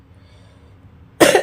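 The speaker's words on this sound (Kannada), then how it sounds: "ಮತ್ತು ಕೆಮ್ಮು ಕಫ ಅದನ್ನು ಕೂಡ ಸ್ಟಾರ್ಟ್ ಆಗುತ್ತೆ." A single loud, close cough bursts out suddenly after near-silence.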